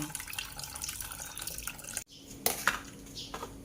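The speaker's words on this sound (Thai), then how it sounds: "น้ำเยอะไปนะคะเทน้ำออกหน่อย" Excess water tipped out of a cooking pan makes a continuous pouring splash that briefly stops, then resumes with sloshing and a metallic clink, close and fairly quiet with no talk.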